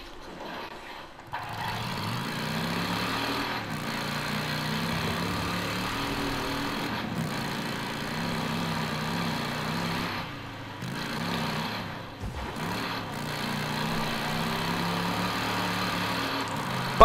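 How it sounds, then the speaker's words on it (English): A motorcycle engine in the video game Days Gone runs steadily and loudly with a low, rumbling idle and throttle, sustained throughout with a few brief dips and no talking. "Bike is so loud"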